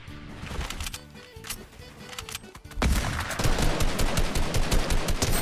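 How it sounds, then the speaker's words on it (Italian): Rapid automatic gunfire and explosions ring out in a Fortnite match, bursts of dense shots growing heavier and louder in the second half, with no talk over them. "Li stanno bombardando anche da destra. E mi sparano."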